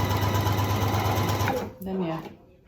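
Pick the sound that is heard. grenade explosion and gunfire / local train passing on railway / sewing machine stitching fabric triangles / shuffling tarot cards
sewing machine stitching fabric triangles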